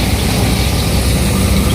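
A 45 to 55 horsepower tractor idles close by in Kutch near Bhuj, a loud, steady, rough rumble that continues without pause throughout.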